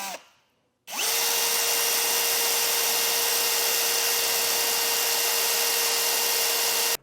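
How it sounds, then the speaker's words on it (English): Power drill boring out metal roof rail fasteners on a 2013 vehicle, kicking in after a brief pause with a loud, steady high-pitched whine and grinding that holds continuously, close by, without talk. "So we'll go ahead and drill these out."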